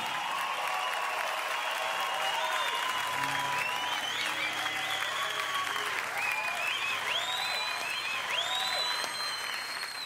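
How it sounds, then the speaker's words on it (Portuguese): Sustained audience applause at an MTV acoustic concert, a dense, steady roar of clapping from a large crowd with scattered cheers and whistles, loud and continuous throughout. "Palmas e mais palmas."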